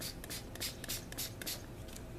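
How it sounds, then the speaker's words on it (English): A spray bottle spritzes water onto autumn leaves in a quick series of short, close, soft hissing bursts, about ten in a loose rhythm, with faint handling rustle between them. "So I'm going to spritz them up with some water here to get them wet."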